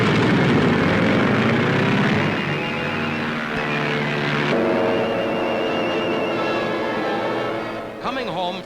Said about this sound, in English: carrier planes make ready and take off